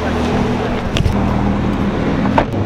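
A 2017 Ford GT rolls along with a low engine drone and road noise, brief sharper bursts rising over the steady hum inside the car.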